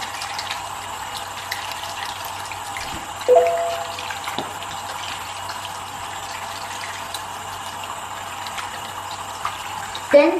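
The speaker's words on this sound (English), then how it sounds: "So after that, you will rinse with water" Tap water runs steadily while hands are rinsed, a continuous close splashing flow with a few louder bumps and clatters along the way.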